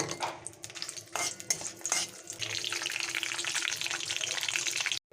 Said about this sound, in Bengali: তেজপাতা আর শুকনো লঙ্কাটা আমার ভাজা হয়ে গেছে।